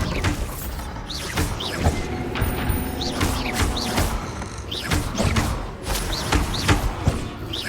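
Repeated Bombarda spell blasts in Hogwarts Legacy on PS5 land as a rapid series of loud thuds and crashes, with debris clattering and magical whooshes between them and a constant game soundscape underneath.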